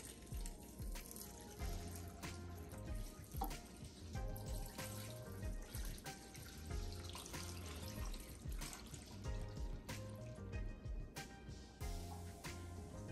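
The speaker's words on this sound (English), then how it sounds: "Now we're gonna add just enough water to cover." Water pours steadily from a tap into a pot for cooking pork neck bones, a continuous splashing fill with small drips and clinks, no voices.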